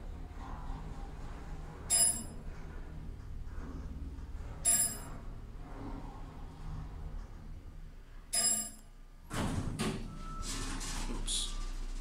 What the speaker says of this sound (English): Love that dinner bell.